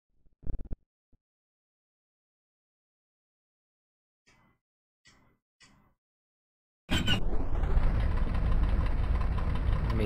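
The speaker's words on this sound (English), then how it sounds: "these engines get loud." Stuka G aircraft engines in World War II Online roar up suddenly after a few quiet clicks, holding a loud, steady, droning rumble through the rest of the stretch.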